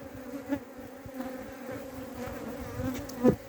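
Honeybees drone steadily at an open brood hive in Adana in March, a continuous close hum with a few louder buzzing passes near the end.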